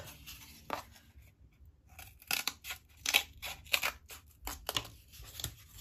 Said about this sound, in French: Donc, on vient découper le triangle.